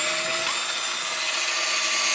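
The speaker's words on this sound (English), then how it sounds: "gonna drill a hole" A power drill whines steadily at high pitch, boring a hole in a Ford F150 for Hella 500 lights, continuously for a couple of seconds, close by with no talking.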